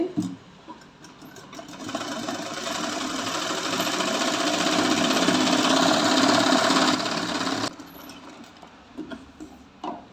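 A sewing machine runs steadily for about five seconds, stitching ribbon onto a pillow cover, then stops abruptly, leaving a few faint handling taps.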